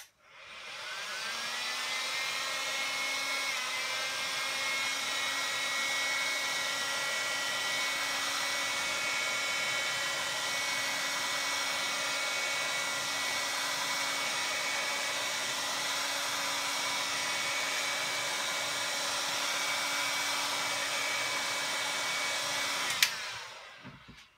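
A heat gun blowing hot air around a Sony Xperia Z3 Compact to loosen the rear glass, a steady loud whirring hiss that runs continuously for over twenty seconds, then cuts off with a click.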